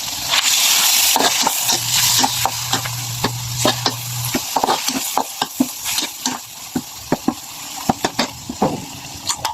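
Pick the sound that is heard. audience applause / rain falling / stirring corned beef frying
stirring corned beef frying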